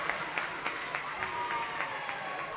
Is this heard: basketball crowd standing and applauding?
yes